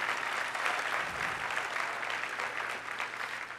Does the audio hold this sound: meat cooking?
no